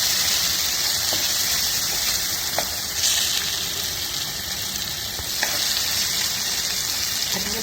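Poha frying with potatoes, turmeric, curry leaves and tomato hisses loudly and steadily in a pan, with occasional spoon clicks from stirring.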